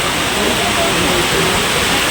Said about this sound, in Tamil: எவ்வளோ மழை பிடிச்சிச்சு பாருங்களேன்.